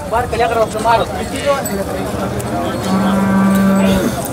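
A pregnant Khillar cow gives a long, low moo near the end, steady and loud, after a stretch of nearby voices and general cattle market bustle at Modnimb, Maharashtra.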